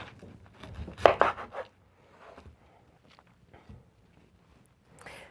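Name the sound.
knife slicing the top off a pineapple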